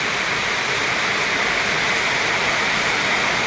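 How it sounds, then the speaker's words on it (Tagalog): Floodwater rushes along a flooded road outside, a steady broadband roar of fast-moving water that stays loud and unchanging throughout, with no voices. "Grabe yung tubig na umaagos mula sa labas eh."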